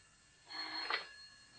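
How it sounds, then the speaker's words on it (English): A telephone bell in an old-time radio crime drama gives one short, faint ring lasting about half a second, alone in an otherwise quiet moment. "That's my phone."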